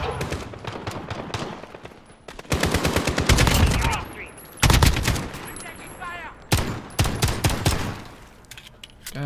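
Rapid bursts of automatic gunfire from Call of Duty: Modern Warfare in Infected mode, with loud, dense volleys and brief pauses, a voice talking over the shooting.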